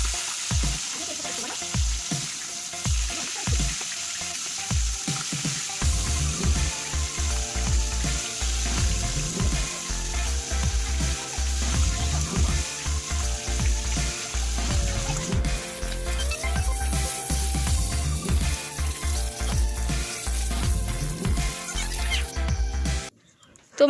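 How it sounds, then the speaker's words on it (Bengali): Fish frying in hot oil in a home kitchen, a steady loud sizzle running throughout with scattered clinks and a tonal hum entering midway, no talking. "মাছগুলো ভেজে নেবো সব।"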